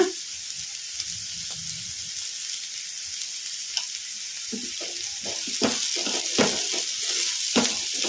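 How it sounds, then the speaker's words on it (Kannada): Cowpea beans frying over a medium flame in a home kitchen, with a quiet background hiss and scattered stirring scrapes and crackles that grow busier toward the end, and no voices. "ಈಗ ಎರಡು ನಿಮಿಷ ಆಗಿದೆ ಚೌಳಿಕಾಯಿಯನ್ನು ಮೀಡಿಯಂ ಫ್ಲೇಮಲ್ಲಿ ಫ್ರೈ ಮಾಡೋಕ್ಕೆ"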